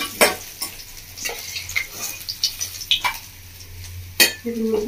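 Kalbos fish turned over and frying in oil in a village-style kitchen, giving a moderate crackling sizzle broken by several sharp clatters and scrapes of a utensil against the pan.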